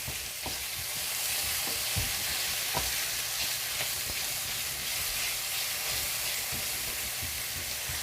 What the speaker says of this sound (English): Lots of onion. So we're just gonna let this saute and extract a lot of the flavor out of this.